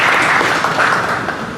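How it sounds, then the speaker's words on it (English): Crowd applause at a glass art studio demonstration, welcoming glass artist Micah Evans; a smooth, full wash of many hands clapping together, loud at first and easing slightly as it goes. "Would you help me in joining a round of applause to welcome"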